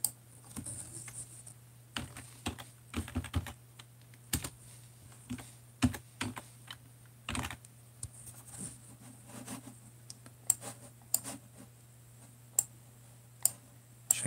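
Keys clacking on a computer keyboard while a new composition is set up in software, sparse bursts of close typing and clicks with pauses between, alone over a steady low hum.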